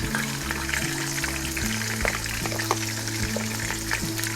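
Shallot and garlic fry in a pan with a close, steady sizzle and crackle, broken by light clinks and scrapes of stirring, and no voices.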